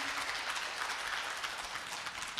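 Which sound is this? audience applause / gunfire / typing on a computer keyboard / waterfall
audience applause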